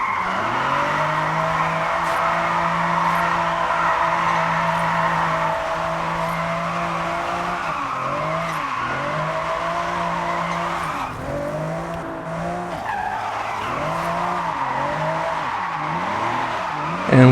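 A car drifts in Forza Horizon 6, engine revving hard and steadily, then wavering through repeated slides with tire squeal and skidding, loud and up close throughout with no talking.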